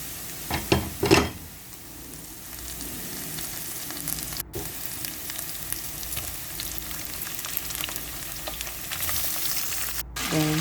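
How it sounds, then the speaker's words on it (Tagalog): Minced garlic sautéing in olive oil in a pan, a close continuous crackling sizzle with a few stirring knocks early on, steady throughout. "isusutin na natin yung ating garlic. 2 tablespoons of olive oil and a tablespoon of garlic."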